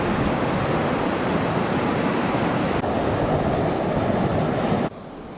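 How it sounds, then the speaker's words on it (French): Hissing fumaroles and steam vents beside bubbling mud pots at Myvatn, Iceland, a loud steady broadband roar-like hiss that holds for about five seconds, then drops abruptly to a quieter rush. "ce concert de sifflements de cocottes minutes, de clapotis dans les marmites de boue"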